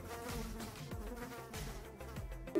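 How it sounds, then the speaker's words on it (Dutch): A housefly buzzes close around a person outdoors, its droning hum rising and falling steadily as it circles near, with no talking over it. "er komt echt heel een vlieg gewoon om me heen"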